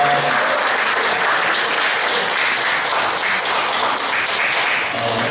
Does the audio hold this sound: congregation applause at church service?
yes